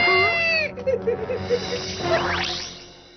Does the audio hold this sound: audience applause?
no